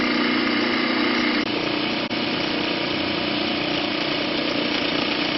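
An RV electric motor is fed from a rotating inverter built with four solid-state relays at about 128 volts AC, giving a loud, steady motor hum with dense, even buzzing and two brief dips, no talking.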